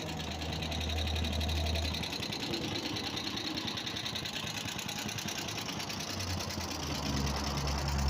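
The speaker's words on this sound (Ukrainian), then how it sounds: "збільшуємо газ і збільшуються оберти, зменшуємо газ і оберти також зменшуються" A 6.2-horsepower Neva walk-behind tractor engine runs loud and close with a steady buzzing, knocking drone, its pitch dropping and then rising again as the throttle is eased back and opened up.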